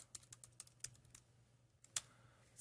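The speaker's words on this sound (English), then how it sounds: "I'm going to type in my password." Password being typed on a computer keyboard, a quick sequence of light key clicks followed by a pause and a final sharp keystroke, faint and close.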